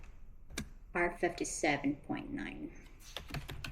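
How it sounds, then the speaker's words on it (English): Clicky typing on a computer keyboard, quick irregular key taps in short bursts, mixed under a person speaking aloud throughout. "Let's type that again."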